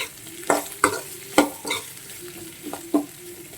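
Onions sizzle softly in a pan while a utensil stirs and scrapes them in several distinct strokes.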